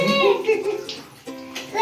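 Water runs into a bucket during Holi play, a splashy rush partly masked by lively children's voices talking over it.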